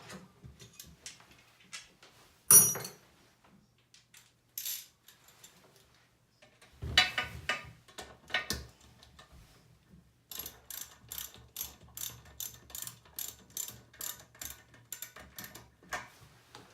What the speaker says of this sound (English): And then we can tighten up the closet bolts.